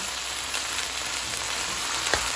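Sardines with moringa leaves sizzle steadily in a pan as water hits the hot oil, a close, even crackling hiss throughout with one small bump near the end.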